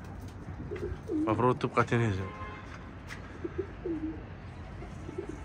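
Pigeons coo in soft, rolling repeated calls close by, with a voice speaking over part of the cooing.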